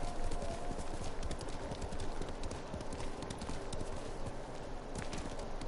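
Rapid, steady video game horse hoofbeats clatter in a continuous galloping rhythm, moderately loud, with a faint whinny in the background.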